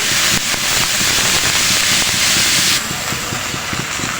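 Onions fry hard in a pan for a chicken tehari, a loud dense sizzle crackling and popping close up, with a few stirring scrapes; the hiss eases slightly toward the end.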